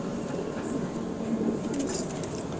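Pigeons of the Madrasi highflyer breed coo softly at a loft where they are kept for sale, a low steady murmur under faint background noise, with some distant clatter and a faint voice.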